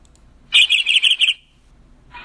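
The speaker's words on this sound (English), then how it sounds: "Canary." A canary sings a quick run of bright, high trills, five or six pulsed phrases in close succession, loud and clear with no other sound around it, then silence and a brief faint chirp at the end.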